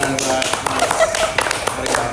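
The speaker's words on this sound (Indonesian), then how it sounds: "Tepuk tangan buat" Group clapping during a school group presentation on religious tolerance: steady, fairly loud patter of hand claps running throughout, with voices talking underneath.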